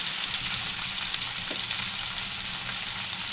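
Pan-seared salmon fillets, just turned over, sizzle in a hot pan with a steady, dense, close frying hiss and no talking.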